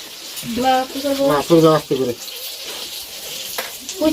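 Oil heating in a pan on a home kitchen stove gives a steady, broad sizzling hiss that carries on behind a stretch of talking and continues alone afterward.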